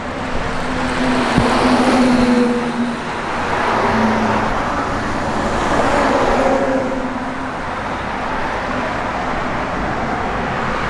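A 1956 Ford F100 truck drives by, its engine swelling and easing in a few broad surges over several seconds, moderately loud with road noise and no speech.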